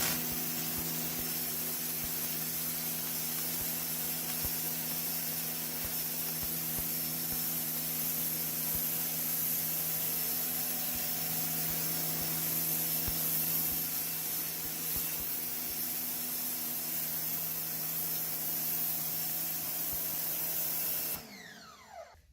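Sun Joe pressure washer on its highest-pressure nozzle blasting caked mud off a floor: a loud, continuous hissing spray with a steady motor hum underneath for about twenty seconds, then cutting off abruptly. No speech.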